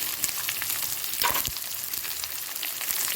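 Beans, green peas and potato frying in a pan for a vegetable poriyal, with a steady soft sizzle and occasional stirring scrapes, heard alone without talk.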